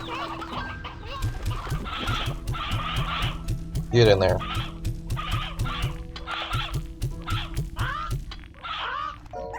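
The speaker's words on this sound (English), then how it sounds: "Too many roosters." Roosters in the video game Slime Rancher 2 cluck in a rapid, continuous chorus of short calls with a crow-like squawk in the middle, while someone speaks briefly over them.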